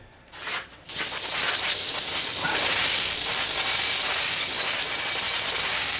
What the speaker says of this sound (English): when I sprayed the intake cleaner